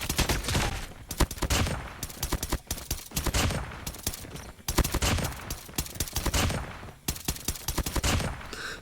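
Rapid, dense bursts of M1 Garand semi-automatic rifle fire in the COD Mobile shooter game, loud and close, with short gaps between volleys and no talk over them.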